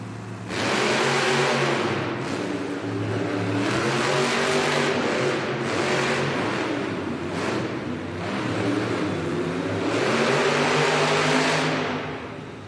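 Monster Jam monster trucks launching at the start of a race in an arena in Allentown, Pennsylvania: loud, sustained engine roars that surge, ease off and surge again over about twelve seconds, with no talking.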